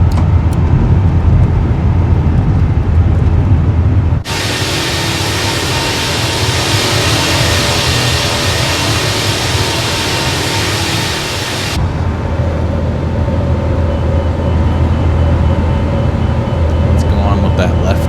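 Airbus A350 in Microsoft Flight Simulator 2024 climbing after takeoff, a loud continuous engine roar and broadband rush that abruptly brightens for several seconds then drops back, with talk over it.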